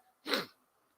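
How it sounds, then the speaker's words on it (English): A single sharp sneeze, close and fairly loud, bursting out and fading within half a second, with near silence before and after. "I think I'm going to sneeze."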